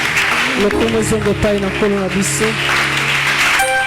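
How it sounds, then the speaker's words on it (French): A church congregation applauds and acclaims Jesus during a French-language teaching on the tabernacle. Loud, steady clapping mixes with voices calling out, and a sung or chanted melodic line rises over the applause. "Acclamons très fort le Seigneur Jésus."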